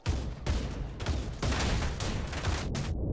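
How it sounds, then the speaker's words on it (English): Ferret units firing in the strategy game Tooth and Tail: a dense, continuous fusillade of game gunfire with several sharp bursts over a few seconds, loud and steady, with no talk. "ferret shots firing"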